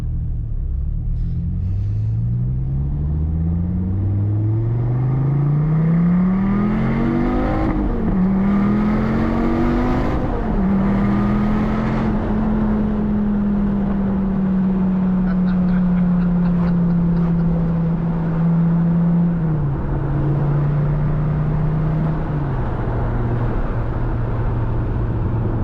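A stock Gen V Dodge Viper with its 8.4-litre engine pulls away on a backroad with the windows down. Its close, loud drone climbs through a couple of rising revs, then settles into a steady cruising hum.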